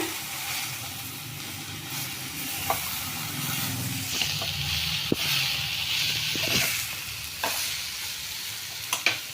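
A spoon stirs cabbage kurma mixture in a hot pan, with a steady sizzle and frying hiss under scattered scraping clicks of the utensil against the pan, close and moderately loud, no talking.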